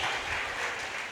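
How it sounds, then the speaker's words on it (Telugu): A church congregation claps loudly during a sermon, producing a dense, steady burst of applause that fills the whole short moment without a break. "నమ్మిన వాళ్ళు గట్టిగా చప్పట్లు కొట్టి"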